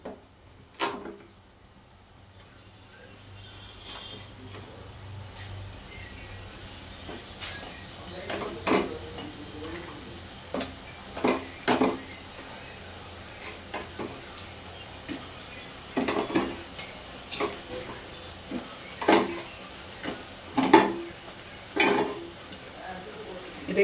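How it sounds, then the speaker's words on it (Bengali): Pieces of magur catfish go one by one into oil and spiced masala in a pan, giving a low steady sizzle broken by sharp clinks and scrapes of utensils, growing busier toward the end. "এইবার আমি একটা একটা করে মাছ এর মধ্যে দিচ্ছি।"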